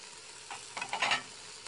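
Beef cubes brown in a Fagor stainless steel pressure cooker, giving a soft, steady sizzle with a few brief scraping stir sounds partway through, close by and alone.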